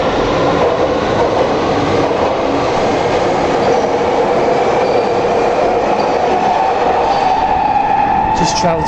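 A London Underground Victoria line train runs at speed in a tunnel, giving a loud, steady rumbling roar with rail noise and a rising whine near the end, and no gaps.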